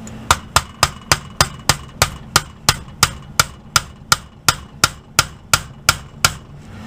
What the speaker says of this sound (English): kind of give it some taps